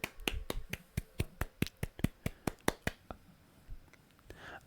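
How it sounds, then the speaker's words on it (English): Hands clap about a dozen times in a quick, steady rhythm, close and fairly quiet, then stop. Game sounds and faint voices sit underneath. "That's all the clapping you get from me."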